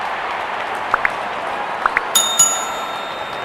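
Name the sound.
cricket crowd cheering as openers walk in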